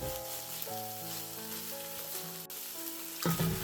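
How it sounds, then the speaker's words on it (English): Garlic and tomato paste fry gently in a pot for beef bourguignon, a soft, quiet sizzle continuing under sustained background music tones. "Garlic, tomato paste. Just a few quiet minutes to cook them through."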